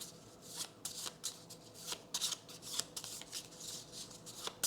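Playing cards from the Kinfire Delve board game being shuffled close by, a run of crisp riffling bursts and flutters repeating through the whole stretch, with no talking.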